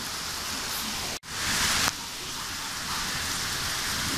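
Heavy rain pours steadily outside a balcony during a thunderstorm, a dense continuous hiss broken by a brief dropout and a sudden louder surge of downpour partway through.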